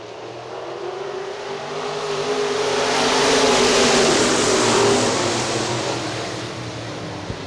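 IMCA Modified race cars in an eight-lap heat at Hartford Speedway Park in Hartford, Michigan roar past as a loud engine drone that swells to a peak midway and fades, with a steady engine hum beneath.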